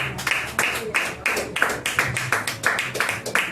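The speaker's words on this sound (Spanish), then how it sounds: "Dale un fuerte aplauso a Cristo de la gloria" A church congregation claps during a sermon, steady rhythmic hand claps close by, with voices underneath.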